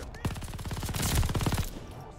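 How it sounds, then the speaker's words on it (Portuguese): A rapid burst of automatic gunfire in Call of Duty: Vanguard, a dozen or so quick shots in a tight rhythm, loud and close, ending abruptly. "tomando tiro de costas!"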